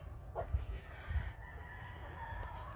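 Roosters and hens in a Kelso and yellow-legged hatch gamefowl breeding pen, with fowl calls and clucking over low farmyard noise, a couple of stronger bursts near the start, and no talking.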